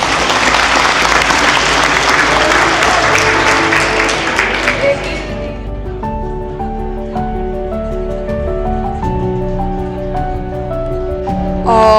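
An audience at a public deliberation forum on integrated care in Gyeonggi Province bursts into dense, loud clapping that fades out after about five seconds, leaving sustained piano-like music tones ringing alone.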